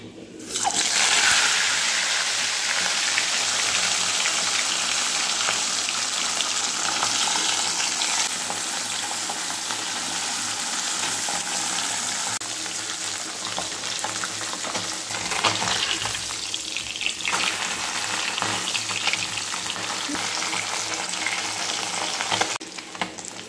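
Mustard oil sizzles and crackles steadily in a hot wok as fish fries, a dense continuous hiss that swells briefly near the middle and toward the end, with no talking.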